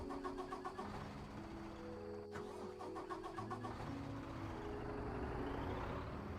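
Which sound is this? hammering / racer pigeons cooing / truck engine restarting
truck engine restarting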